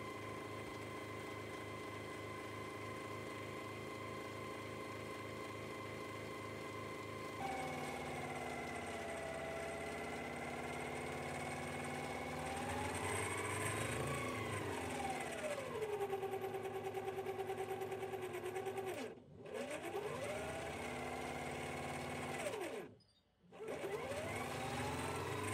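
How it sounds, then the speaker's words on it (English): A 12 volt motor with an 8 amp draw, on an adjustable supply, spins a hoverboard hub motor as a generator. It gives a steady mechanical whir and hum that shifts pitch partway through, cuts out briefly twice, and plays alone with no talk. "The motor that I'm using to drive the generator is a 12 volt motor, and it can draw up to about 8 amps."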